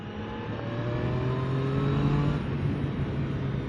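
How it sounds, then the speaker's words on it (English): A Triumph Daytona 660 motorcycle engine runs steadily at a smooth, even idle, close and fairly loud, with a low droning hum throughout. "Engine just sounds so nice."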